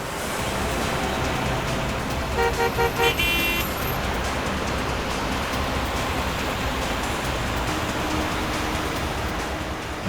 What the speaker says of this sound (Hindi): ट्रैफिक बहुत है सर।